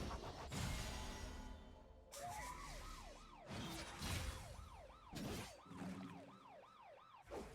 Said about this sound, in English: police sirens going off